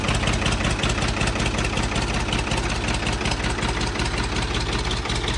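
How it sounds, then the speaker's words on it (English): A tractor engine idles steadily and loud after being fired up, a heavy low diesel-like chugging with an even rapid pulse throughout, no talking. "So now we're going to get this tractor fired up."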